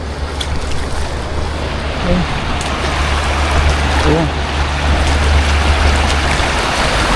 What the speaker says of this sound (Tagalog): Nandito muli tayo sa ilog.